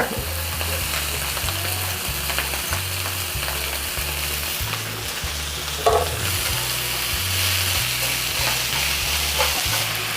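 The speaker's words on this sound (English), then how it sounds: "kind of break the onions up a little bit" Chopped onions sizzle steadily in a hot pan beside kielbasa, sauerkraut and potatoes, with a rhythmic run of spatula scrapes and stirs repeating close up throughout and no talking.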